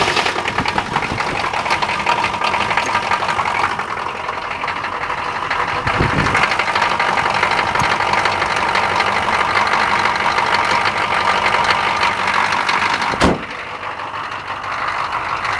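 An engine runs at a steady idle after being cranked, a continuous close rumble that holds level throughout, with one sharp knock near the end, after which the sound drops slightly.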